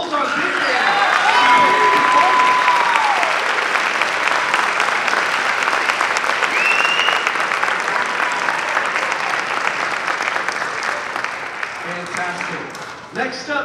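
A large jazz festival crowd applauds a middle school big band, loud sustained clapping with a few whistles and cheers, slowly tapering off toward the end.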